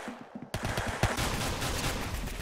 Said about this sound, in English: I heard a bullet whiz past me